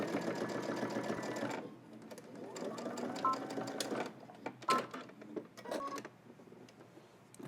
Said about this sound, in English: now I'm doing a second row of top stitching a 1/4 inch away from that one